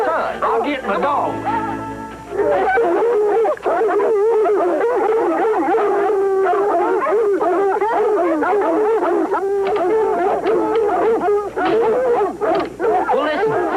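A hound dog howls and yips excitedly, with long wavering cries running nearly the whole time, loud and close, while someone talks over part of it in a rural 1960s setting.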